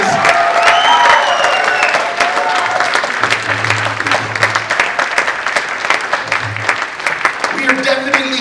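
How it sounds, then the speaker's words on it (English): An audience at an evening teachers' honoring event applauds warmly for several seconds, a dense, steady wash of clapping with scattered cheers and a few voices rising through it near the end. "Give Sarita another round of applause."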